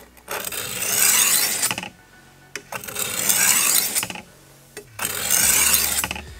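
A kitchen knife blade drawn across a sharpening stone to raise a burr: three long, even, gritty rasping strokes, each about a second and a half, separated by short pauses, close and clear.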